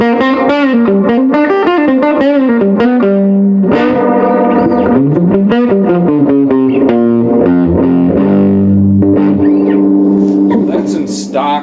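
Electric guitar with humbucking pickups played through a Frugal Amps AB763 single-channel combo, loud and continuous with chiming chords and sustained notes, no talking.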